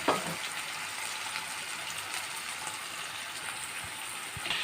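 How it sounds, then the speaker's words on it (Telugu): Ginger and garlic fry in a pan for a mushroom curry, giving a steady soft sizzle with a few faint stirring clicks near the start and end. "అల్లం వెల్లిపాయ వేగినాక"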